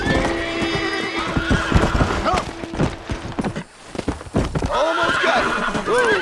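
Horse in Red Dead Redemption neighing and whinnying as it is broken in, loud repeated whinnies mixed with clip-clopping hooves and stamping, with a voice speaking over parts.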